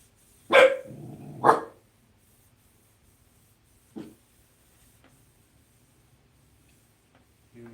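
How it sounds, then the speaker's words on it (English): A dog barks outside during work tillering an Osage recurve bow: two close loud barks near the start, then a single fainter bark a few seconds later, with quiet room between and no talk. "He's keeping us safe, barking at the wind out there."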